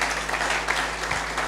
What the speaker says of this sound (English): Come on, clap for this department.